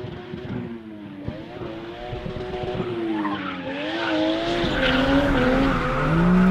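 A stock turbocharged car drifts around a track on Chinese tyres, its engine note rising and wavering as the revs swing, with tyre squeal building and growing louder toward the end.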